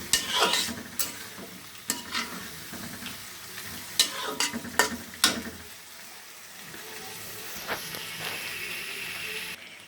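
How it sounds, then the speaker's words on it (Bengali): Meat stirred and fried in a pan, a soft continuous sizzle broken by several sharp scrapes and clatters of the spoon against the pan, fading to a quieter simmer. "এই যে এতটুকুই মাংস রান্না করছি"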